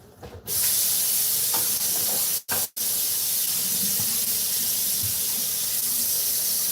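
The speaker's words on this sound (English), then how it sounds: "let me wash my hands" Warm tap water runs steadily into a sink while hands are washed in a kitchen, a loud continuous hiss broken by two brief dropouts, with no talking.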